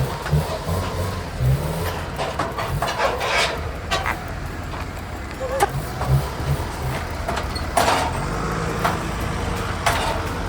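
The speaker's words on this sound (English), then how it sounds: "now we're going to drive it onto the trailer" A $500 junkyard Mitsubishi Lancer is driven onto a trailer, its engine idling and revving in short bursts with clunks and knocks over a rough, moderately close running sound.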